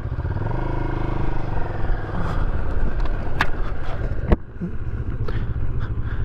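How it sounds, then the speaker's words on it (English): A 2023 Moto Morini X-Cape adventure motorcycle engine while riding, a smooth, steady low drone mixed with wind and road noise, with a couple of sharp clicks or clunks partway through. "the motor is very quiet and very smooth"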